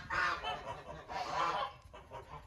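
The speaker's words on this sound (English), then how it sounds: "So look, the goose has gotten up." A domestic goose named Trudy honks close by, giving two or three loud, nasal bursts in quick succession.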